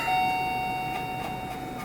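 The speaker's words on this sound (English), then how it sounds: "Doorbell." An electronic doorbell chime rings once near the start, its tones fading gradually with no talking.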